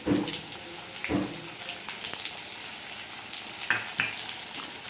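Garlic sautéing and being stirred in a pan ahead of adding onion, a soft steady sizzle broken by a few clinking stirs near the start and again near the end.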